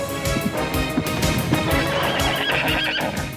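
Horses ridden by relay letter carriers: loud neighing and whinnying over clip-clopping hooves, close and continuous, with no talk.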